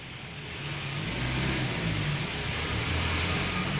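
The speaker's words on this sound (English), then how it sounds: "there are lots of cars coming in and going out." Cars move in and out of a nearby lot, a steady engine rumble swelling as a vehicle approaches and holding close and fairly loud without talk.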